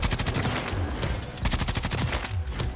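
Light machine gun in the shooter Warzone firing loud, rapid continuous bursts, each rattle of shots running nearly nonstop with only brief gaps between bursts.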